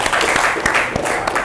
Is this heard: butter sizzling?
no